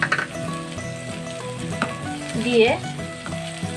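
Chopped tomato drops into onions already softened in a hot pan for spicy semolina upma, setting off a loud sizzle with metallic stirring clatter, while a person speaks briefly over it.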